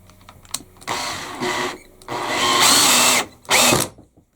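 A drill driver driving a screw whirs in several bursts of rising intensity, the longest and loudest near the middle, with short pauses between runs as the torque clutch cuts in.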